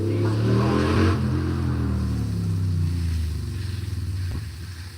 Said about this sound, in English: I'm sure you guys heard the motorcycles in the background